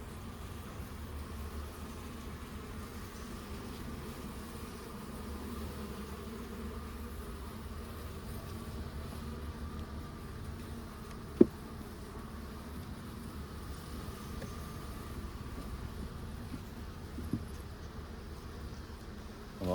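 Honey bees hum in a steady, faint drone from an open hive during an inspection, with a sharp click or two from handling the frames.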